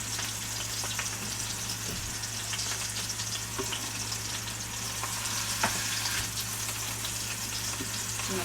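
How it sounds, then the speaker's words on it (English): Pot roast searing in hot oil, a steady close sizzle with occasional crackles and a constant low hum underneath, no voices. "I'm just trying to sear it on all sides"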